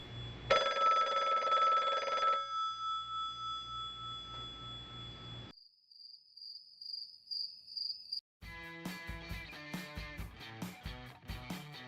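A telephone bell rings once in a loud, trilling burst of about two seconds, then fades into quiet. A thin, steady high tone follows, then rhythmic music.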